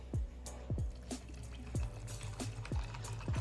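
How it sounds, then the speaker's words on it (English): Water is poured into a cup of peach-flavored G Fuel drink mix, a quiet close sequence of glugging pours and drips in a few short uneven bursts, with no talking. "Let's put some water."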